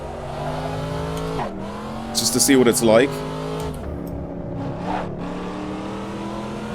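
Corvette Stingray engine droning steadily on the Willow Springs circuit in Assetto Corsa, with a brief louder burst and a short squeal midway, under someone talking over it.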